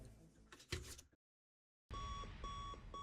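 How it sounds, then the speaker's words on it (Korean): Digital alarm clock beeping in a film scene, loud repeated electronic tones in a steady pulsing rhythm following a brief silence, after a burst of earlier noisy activity. "알람 시계에 맞춰 눈을 뜨게 된 주인공 마이크."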